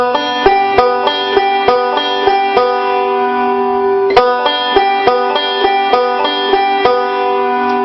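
Banjo picking a quick, even forward roll, bright plucked notes cycling in a steady repeating pattern, played solo and close.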